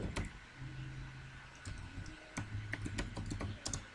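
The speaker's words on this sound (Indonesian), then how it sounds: "saya ketikkan daftar isi" Keys clatter in quick, uneven bursts as someone types on a computer keyboard in Microsoft Word, close and fairly quiet, with short pauses between runs of clicks and a faint low hum underneath.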